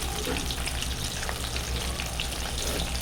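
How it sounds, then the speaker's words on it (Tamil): Soya chunks for a crispy soya 65 fry in hot oil with a dense, continuous bubbling sizzle, close and even throughout. "அப்படியே ஒரு ஃபைவ் மினிட்ஸ் நல்லா ஃப்ரை ஆகட்டும்"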